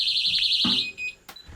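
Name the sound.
Technaxx TX-100 motion detector alarm sounding indoors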